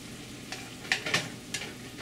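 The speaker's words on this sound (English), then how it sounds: "Just stir and let it heat up." Fried rice with bacon, chicken hearts, tofu, fish cake and egg being stirred in a frying pan, a soft sizzle with a few sharp spatula scrapes, close by, and no talking.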